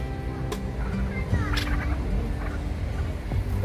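A bird calling in a park, a few short gobbling, fowl-like cries over a steady outdoor background hum, moderately close.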